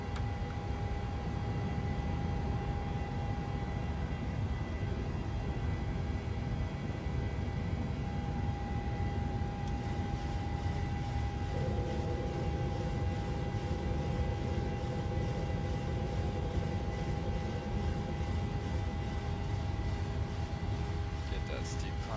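PMDG 737 jet engines climbing after takeoff in Microsoft Flight Simulator 2020, a steady loud broadband roar with a constant whine that holds throughout, without a clear break.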